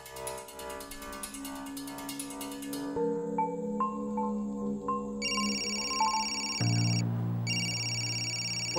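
A telephone rings several times in a tense domestic drama scene, electronic ringtone tones over a background music score, with no speech.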